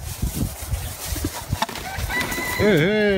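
A rooster at a zoo in Hadzhidimovo crows once, loud and close, after scattered background noise and faint voices.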